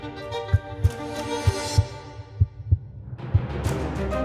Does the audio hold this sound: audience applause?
no